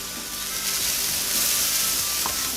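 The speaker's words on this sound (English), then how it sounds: "What I want to do now, I'm going to start basting this a little bit" Surf and turf basting in a hot pan with a butter mix, producing a steady, close, loud sizzle with soft spoon scrapes and a faint clink.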